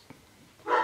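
A dog barks from another room where it has been shut out and is upset: a short faint bark near the start, then a louder, longer burst of barking toward the end.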